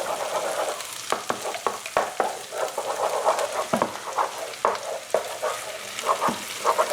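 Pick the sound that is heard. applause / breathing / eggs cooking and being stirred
eggs cooking and being stirred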